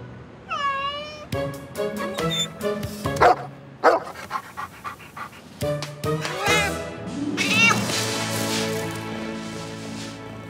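A cartoon cat meows up in a tree with a few short, rising cries near the start, then a cartoon scene with music-like tones, thumps and a dog's barks and pants follows, loud and close.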